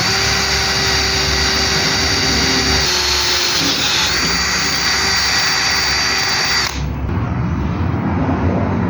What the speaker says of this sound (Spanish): hacemos un hoyo y ya después ya podemos meter lo que es nuestra otra broca, ¿vale? Que es más gruesa